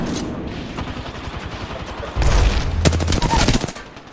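Arc star grenade blast and gunfire in Apex Legends: low rumble of battle and scattered shots at first, then a loud burst of explosive crackle and rapid fire that lasts around two seconds before tapering off.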